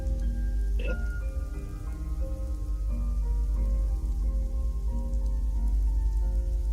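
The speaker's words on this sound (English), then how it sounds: "I kind of like the Skyrim nighttime rain music background" Steady rain ambience from the Skyrim video game at night, a continuous soft hiss of rainfall with layered background music tones underneath, playing at a moderate level with no talking.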